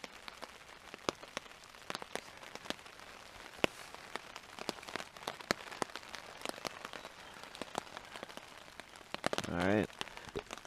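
Light morning rain patters irregularly on a nearby surface at a back-country campsite in Killarney, scattered soft drops and taps over a quiet background, with a short rustle near the end.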